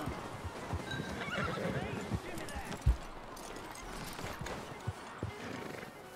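Horses in the Red Dead Redemption 2 video game whinny loudly and their hooves clip-clop as they come to a halt, with someone speaking over the scene.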